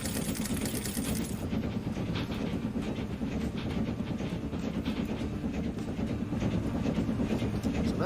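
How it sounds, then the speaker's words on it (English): Train rolling along in the video game Transport Fever 2, a continuous loud rumble with rhythmic clickety-clack and a faint hiss, steady from start to finish. "That's the new train."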